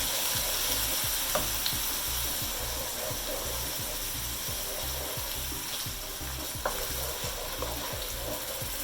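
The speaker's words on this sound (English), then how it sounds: "And to this I'm going to add in my onion, garlic, and ginger paste that I made earlier." An onion, garlic and ginger paste fries in oil in a pan, giving a soft, continuous sizzle with rhythmic stirring strokes, close-up and quiet, with no talking.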